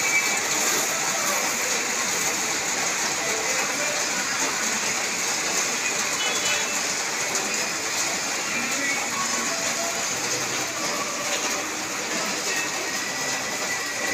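Heavy rain pours in a constant, dense hiss, loud and unbroken throughout, around an Easyride 150N motorcycle.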